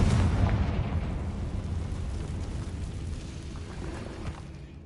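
A Confringo fire spell blast in the video game Hogwarts Legacy: a loud, rumbling boom that rolls out and decays slowly over several seconds, heard alone without talk.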